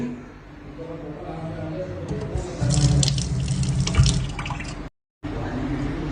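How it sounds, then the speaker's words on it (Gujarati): Tap water runs steadily in a continuous hiss for several seconds. It grows slightly louder midway, cuts out briefly near the end, then resumes, with faint background noise underneath. "पानी तो आ रहा है पानी तो आ रहा है"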